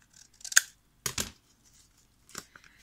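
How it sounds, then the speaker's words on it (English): Scissors cut out paper for a small handmade envelope: three short, crisp snipping bursts up close, separated by brief pauses. "And now I'm going to cut this out."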